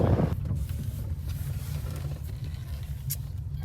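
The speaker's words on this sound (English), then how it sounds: "I'm gonna go drive it real quick, make sure it shifts" A car crawling slowly through an auction lot, with a low, steady engine rumble and wind buffeting the microphone, loud at first and then settling into an even hum.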